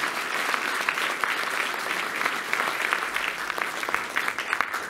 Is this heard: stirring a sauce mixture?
no